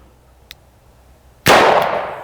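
A Smith & Wesson Governor revolver fires a 7.5 shot shell during shot-pattern target shooting: a faint click, then a single sharp, loud blast at close range that rings off briefly.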